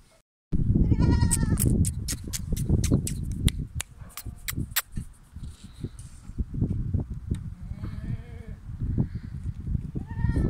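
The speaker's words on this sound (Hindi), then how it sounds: "इसमें एक बकरा भी है" Goats, including kids and a large buck, bleat repeatedly at close range in a home livestock pen shared with chickens, the calls overlapping in an irregular chorus with occasional soft rustling.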